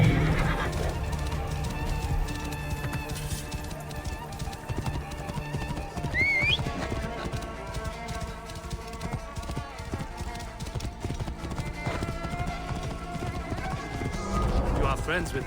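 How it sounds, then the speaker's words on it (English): Horse neighing with clip-clopping hooves in the video game Assassin's Creed Origins, set over a dense game score with music and ambient noise, a rising whinny cutting through midway while voices speak in the scene. "This must be Mered's horse."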